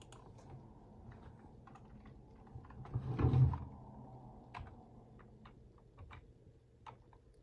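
Computer keyboard keys are tapped in quiet, scattered clicks at close range, with a short louder thump midway and no talking over it.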